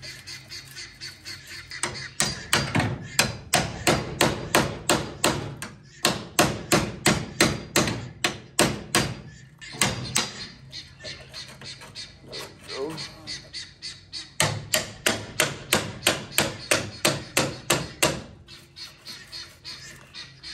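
Repeated sharp metallic hammer blows ring out in fast bursts on a 1970s Mustang Mach 1 radiator support, with short pauses between runs of strikes; a voice speaks briefly in between.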